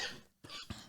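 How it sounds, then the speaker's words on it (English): A short cough, close and fairly quiet, arrives in two or three rough bursts with no talk around them. "I'm coughing all over this"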